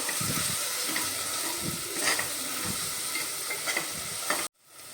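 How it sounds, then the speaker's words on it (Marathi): Red chili powder, turmeric and garam masala stirred and frying in a pan for Marathi-style green pea rice, a steady close sizzle with repeated spoon scrapes, ending abruptly near the end. "आवडीनुसार लाल तिखट थोडासा गरम मसाला टाकूया हे सर्व आपण मिक्स करू"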